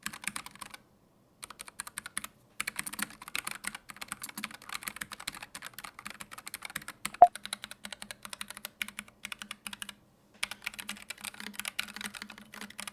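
Someone types on a low-profile keyboard with smooth, quiet Gateron linear switches, producing soft, rapid keystroke clatter in bursts with short pauses and one sharper key hit.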